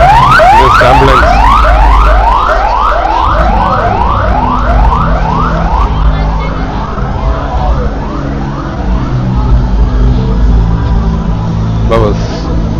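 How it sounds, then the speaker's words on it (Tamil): An ambulance siren wails loudly on a Hanoi street, repeating rapid rising sweeps close by over busy traffic rumble, with a voice briefly heard. "Okay, ambulance, ambulance."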